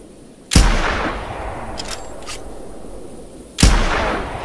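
Two loud gunshots roughly three seconds apart while hunting wild boar outdoors, each a sharp crack followed by a long rolling echo.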